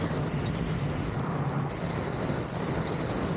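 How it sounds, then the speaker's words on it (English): An Aeroprakt A22LS light aircraft makes a low pass over a lake-side state park runway, its engine a steady broadband drone mixed with wind rush, recorded from inside or near the plane. "We're going to do a low pass over the runway here."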